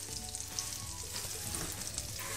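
Butter heating in a hot pan gives a dense, even crackling sizzle for a couple of seconds, steady and close with no voices.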